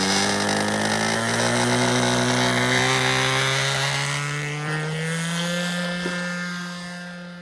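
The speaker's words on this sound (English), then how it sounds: "here we are on Sunday flying my New Era 2. 40 LA in it." New Era 2 model airplane with a 40 LA glow engine flying, a loud, steady high-pitched buzz that holds nearly constant pitch, then slowly shifts and fades slightly as it passes.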